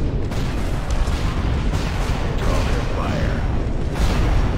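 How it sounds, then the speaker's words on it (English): Repeated booms and blasts of weapons fire in a space battle video game rumble continuously, dense and loud, with several voices calling out over the combat. "Open fire."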